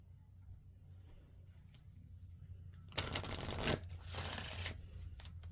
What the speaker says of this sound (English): let's go ahead and pull some more cards